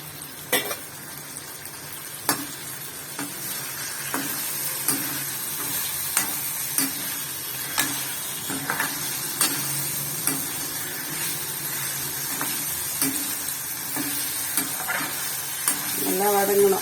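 Curry leaves sauté in hot oil for a barnyard millet kichadi, a soft continuous sizzle punctuated by sharp spatula clacks against the pan at a loose, irregular pace.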